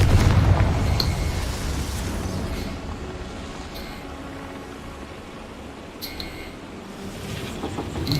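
Confringo fire spell exploding in Hogwarts Legacy, a deep rumbling blast that fades into a low roar with a few faint clicks, no talking.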